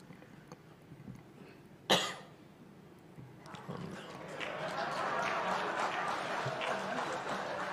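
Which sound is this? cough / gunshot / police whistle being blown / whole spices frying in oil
cough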